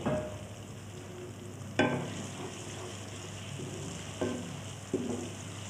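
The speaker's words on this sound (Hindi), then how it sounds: "टमाटर को, प्याज को और लहसुन को मैं अच्छी तरह भून लेती हूँ।" Tomatoes, onion and garlic fry in a pan with a steady soft sizzle, broken by a few sharp scraping stirs of a spoon, close by and with no talking, while a spinach and turnip dish is being prepared.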